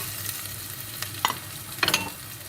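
Potatoes going into a hot pot for a kidney bean stew, a soft steady sizzle with a couple of brief stirring scrapes and clinks, fairly quiet and with no voices.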